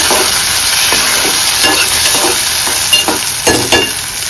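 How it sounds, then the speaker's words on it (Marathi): Onion and tomato being sautéed in a pan for a cashew curry, with a loud continuous sizzle and a regular rhythm of spoon scrapes and stirs close by, no talk. "आता टोमॅटो टाकून घेऊया। व्यवस्थित परतून घेऊया।"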